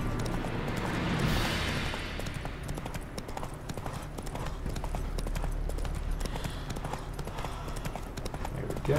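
Horse hooves clop in a fast, steady rhythm as a mount gallops across open ground in the Witcher 3 video game, continuous and close throughout with a low rumble beneath.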